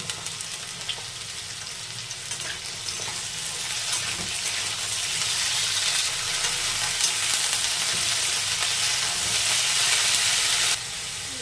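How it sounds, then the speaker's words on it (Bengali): Potato and bottle gourd stems frying in a pan, a steady close sizzle and hiss that swells slightly midway and runs on without a break, with no talking. "আলু লাউ ডাঁটা ভালোভাবে ভেজে করে নিয়েছি।"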